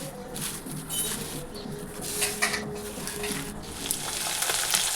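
Fish and bitter gourd fry side by side in pans in a home kitchen, a soft, continuous sizzle and crackle heard fairly quietly with no talking.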